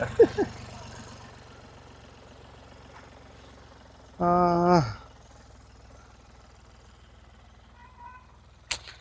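An Ashok Leyland Bada Dost truck engine idles in a steady low drone throughout, interrupted by a short, loud tonal blare in the middle and a few faint clicks near the end.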